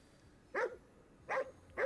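Dog in the video game Ghostwire Tokyo giving three short barks at a steady pace, close and moderately loud, with quiet ambience between them.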